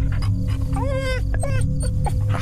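Dog in the Fears to Fathom: Carson House video game whimpering in several short, wavering high-pitched whines, close and clear over a steady low hum.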